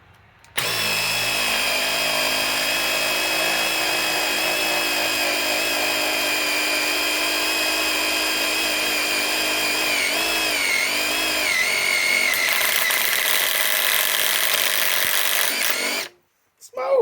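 A Metabo HPT WH18DDX impact driver on a Flex 2.5 battery hammers a fastener into sheet metal, a loud, continuous rattling whine running about fifteen seconds, with the pitch wavering and rising toward the end before stopping abruptly.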